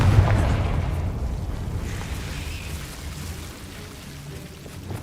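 A Confringo blasting spell in the Hogwarts Legacy video game explodes in a deep rumbling boom that hits at the start and slowly fades into a low, continuous roar.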